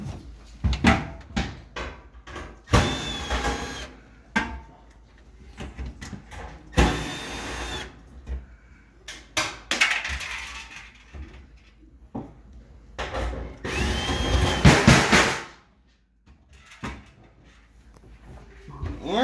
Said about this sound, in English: take off those 3 screws that you see right there